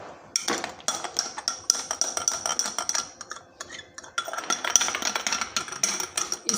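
A metal spoon clinks repeatedly against a cup while coffee is stirred with a little milk, bright rapid taps in steady bursts with a brief pause midway, close and clear with no talking.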